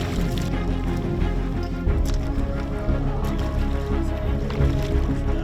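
A motorboat travelling between island hamlets in West Seram, its engine giving a loud low rumble and drone with water splashing against the hull, steady throughout.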